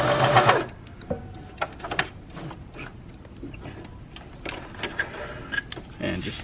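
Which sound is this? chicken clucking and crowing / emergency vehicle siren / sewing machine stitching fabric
sewing machine stitching fabric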